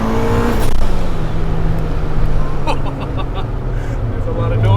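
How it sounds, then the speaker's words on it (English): A turbocharged 400 hp B18C-powered Honda Civic Si EM1 with a screamer pipe, heard as a steady loud engine drone with rising and falling pitch under boost, broad noisy exhaust hiss on top, and a person talking over it. "when you hit that gate and you hear that screamer pipe and the flutter of the turbo"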